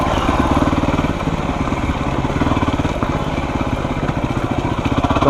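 A motorcycle engine runs steadily at a low, throbbing idle-like pace, loud and close, with no one speaking over it.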